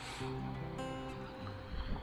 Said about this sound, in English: there's also little mini ankle slapper waves